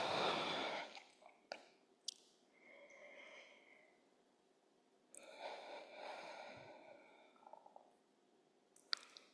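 Deep, slow breathing during a restorative fascia release session: a strong, close breathy rush at the start, then two softer, drawn-out breaths with faint airy whistling, all fairly quiet with no talking.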